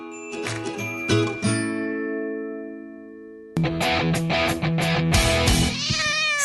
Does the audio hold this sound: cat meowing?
yes